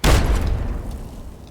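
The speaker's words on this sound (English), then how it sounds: "Oh, we had an explosion" Sudden loud blast in the Fallout 3 wasteland, a heavy boom that hits at once and then rumbles and fades into crackling debris.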